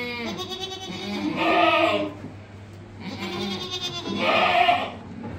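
Goats at a goat farm in Hyderabad give two long, loud, wavering bleats, close by, with a faint steady hum underneath.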